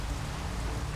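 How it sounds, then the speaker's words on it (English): Heavy rain hisses down on BC's Coquihalla Highway mountain road as a dense, steady wash of noise. "On BC's Coquihalla Highway, heavy rain has made the roads slick"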